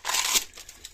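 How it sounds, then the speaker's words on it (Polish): Foil being peeled off a large transformer during scrap teardown for copper, a short loud crinkling tear in the first moments that fades into softer rustling. "Ściągniemy tą folię."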